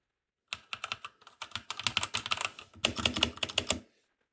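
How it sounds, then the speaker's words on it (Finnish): Fast, continuous clacking on a Dakota Gaming 60% keyboard with red switches, the keystrokes close and crisp in a steady, busy typing rhythm. "Se on tommonen Dakota Gamingin 60-prossainen näppäimistö."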